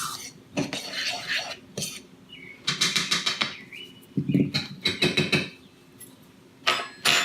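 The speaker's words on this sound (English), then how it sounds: "I just take a fork and kind of mix it all up." A fork mixes flour, salt and butter in a bowl for buttermilk biscuits, making bursts of scraping and clinking strokes separated by short pauses, close and fairly clear.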